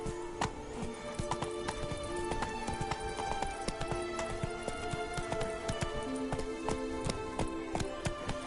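Horse hooves trot through a Witcher 3 game world, a steady, rhythmic run of crisp clip-clops repeating evenly from start to finish at moderate volume.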